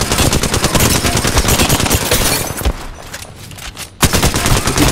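A shooter video game fires off rapid, loud bursts of automatic gunfire back to back, then pauses briefly before the shooting resumes.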